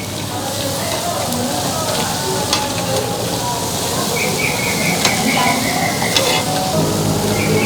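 Ingredients for Betawi pecak jengkol pan-roasting and being turned, a loud steady sizzle like rain on a hot surface with occasional clinks and scrapes, close up.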